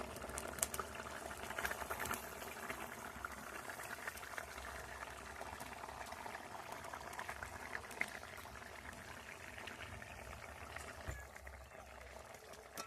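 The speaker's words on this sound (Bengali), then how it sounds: "ঝোলটা ফুটে উঠেছে" Curry broth with potatoes boils steadily in a covered pot, a faint continuous bubbling and hiss heard close up with no talk.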